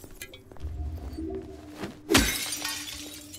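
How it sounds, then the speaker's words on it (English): A car window shatters in Silent Hill 2 Remake, a sharp crunch of breaking glass followed by scattered tinkling shards that fade, with some quieter ambient thumps and clinks before the break. "Going around smashing car windows."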